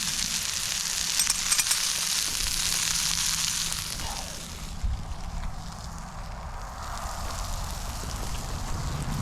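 Steady crackling sizzle of food frying in a pan, close and continuous, fading slightly partway through.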